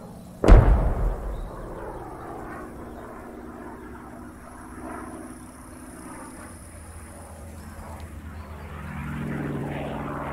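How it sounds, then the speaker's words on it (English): Propeller warplanes in the World War II video game Post Scriptum drone overhead after a sharp blast, their engine hum sustained and swelling again near the end, with distant battle rumble beneath. "you can see actual planes"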